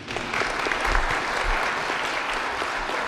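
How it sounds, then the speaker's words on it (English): Applause from an audience for a presenter named Matthew at a business pitch event, a steady dense clapping that holds at a fairly even level for the full stretch. "Big round of applause for Matthew"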